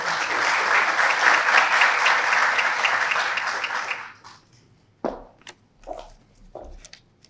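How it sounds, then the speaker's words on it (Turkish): An audience at a startup demo day award event applauds steadily for about four seconds as a speaker is welcomed to the stage, a dense, even roar of many hands, then fades into scattered footsteps and stage thumps. "alkışlarınızla sahneye davet ediyorum"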